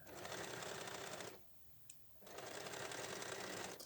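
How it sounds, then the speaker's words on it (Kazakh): A sewing machine stitches the shoulder seam of a pair of pajamas with a quiet, steady whirring run. It stops briefly, then resumes. "Екінші иығымызды тігіп аламыз осылай."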